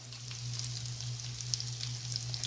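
Bread and egg tikki kebabs fry in a pan with a loud, steady sizzle and crackle, over a low constant hum, with no voices.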